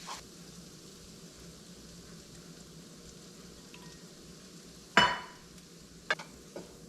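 Flour being stirred into sausage frying in a pan for country-style gravy gives a steady, quiet sizzle with faint scraping, then a sharp utensil clatter near the middle and a few light knocks after.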